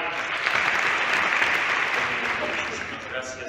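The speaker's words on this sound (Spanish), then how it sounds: "un fuerte aplauso" Audience at an anniversary commemoration inside the National History Museum at Chapultepec Castle applauds with sustained, even clapping from many hands, fairly loud and filling the room.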